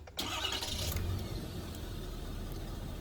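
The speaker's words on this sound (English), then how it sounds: "You'll get confirmation, and there we go. The truck will start." A truck engine fires up by remote start, a brief crank giving way to a steady, close, low idle rumble that holds alone.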